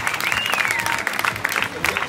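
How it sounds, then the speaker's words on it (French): Spectators at the 100 km de Millau road race applaud during a medal ceremony, a dense ripple of clapping with crowd voices and cheers blended in. "Et puis les applaudissements du public de Millau pour Aurélien Cohn"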